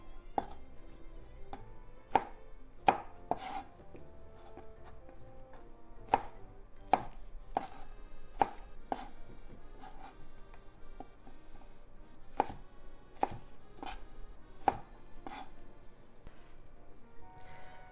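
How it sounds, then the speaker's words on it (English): A knife cuts okra into bite-sized pieces on a board, with sharp, close chopping strikes in irregular clusters and quiet gaps between them, and no talk. "Let's cut okra into bite-sized pieces and add to the bowl of the sesame paste."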